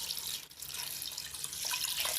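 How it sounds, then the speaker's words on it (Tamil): Water pours steadily into a cooking pot of lamb intestines with ginger garlic paste, a continuous close splashing hiss with no talk. "இதெல்லாம் சேர்த்து தண்ணி விட்டுக்கோங்க."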